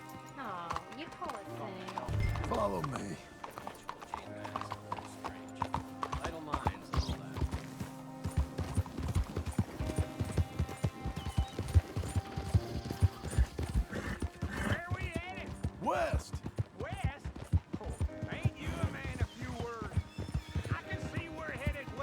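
Steady clip-clop of horse hooves on a hard surface in the video game Red Dead Redemption 2, rhythmic and fairly close, with talking over it and an occasional whinny.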